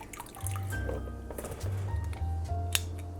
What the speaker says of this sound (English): I'm just gonna gently squeeze out the water